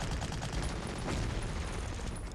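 Anti-aircraft guns firing on tanks in the wartime strategy game Panzer Corps, a dense, continuous burst of rapid gunfire and blasts filling the whole stretch, loud and close with no pause.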